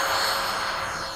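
Radio-controlled F-4 model jet in flight, giving a steady broadband whoosh and high whine that fades gently as it passes, loud and alone without talk.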